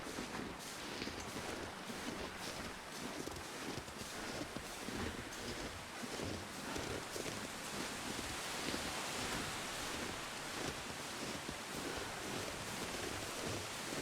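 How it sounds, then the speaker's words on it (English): Steady wind gusting across a frozen outdoor landscape in The Long Dark survival game, a broad, continuous roaring rush with no voices over it. "There's the wind, though."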